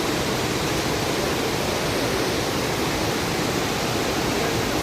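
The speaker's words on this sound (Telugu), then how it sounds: "సౌండ్ విన్నారు కదా, ఆ సౌండ్ బట్టే అర్థమవుతుంది కదా వాటర్ ఫ్లో ఎలా ఉంది." A waterfall beside a ghat road roars in a dense, unbroken rush of water, loud and constant throughout, cutting off abruptly at the very end.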